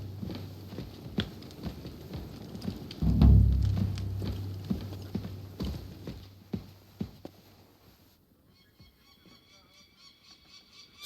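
Horse hooves clip-clopping in Kingdom Come Deliverance II, a run of close hoof strikes in an uneven walking rhythm with a louder thud midway, fading out near the end into quieter ambience.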